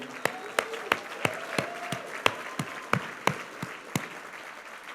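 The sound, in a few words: audience applause at award ceremony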